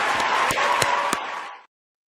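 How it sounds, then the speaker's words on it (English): Applause from a crowd at the close of a live show, with a few sharp individual claps standing out before it tapers off and stops. "Round of applause to everyone in the chat, man."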